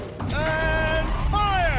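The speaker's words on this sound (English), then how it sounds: "Rotate turret!" A tank turret in Horizon Zero Dawn rotates with a continuous mechanical creaking groan and whining tonal squeals that rise and bend, loud and close for under two seconds.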